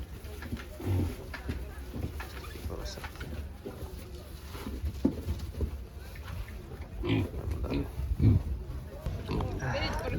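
Piglets at a livestock market in Otyniia grunt and squeal in short bursts amid a busy crowd, with people talking throughout and animal noises rising and falling around them.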